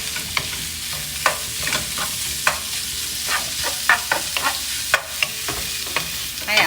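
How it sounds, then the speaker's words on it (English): Spam fried rice tossed in an oily pan, a steady close sizzle broken by repeated sharp scrapes and clacks of the spatula at an uneven rhythm, with no voices. "we just want to give it a few tosses so we give a nice crispy brown to the meat"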